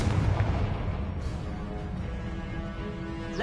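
Confringo, the explosive spell from the video game Hogwarts Legacy played on PS5, bursts with a low boom and rumbling blast that fades into a sustained, moderately quiet rumble.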